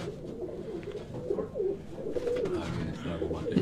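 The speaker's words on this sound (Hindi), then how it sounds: "ये दो तीन किस्म के कबूतर मिक्स है आपस में" Mixed-breed pigeons of several old local varieties cooing together in a loft, soft repeated throaty coos overlapping near and far against a low murmur of background noise.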